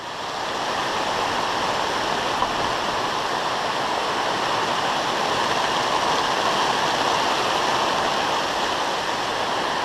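Heavy rain pours down around a Halloween haunt building with a newly finished roof, a loud, steady, unbroken wash of noise throughout with no talking.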